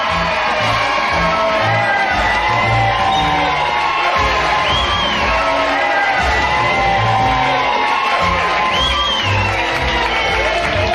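A large crowd at Splash Mountain cheers, whoops and shouts continuously, a loud, dense roar of many voices that holds steady without a break.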